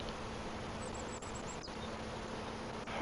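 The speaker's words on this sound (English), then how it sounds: "I want to put in some bees." Bees buzzing in Farming Simulator 25, a steady, continuous insect drone that holds at an even level for the full stretch, with a couple of faint short clicks over it.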